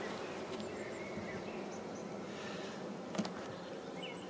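Honeybees swarming around an open hive at an apiary on a spring visit, a dense, continuous buzzing hum close by, with a faint brief thud near the end.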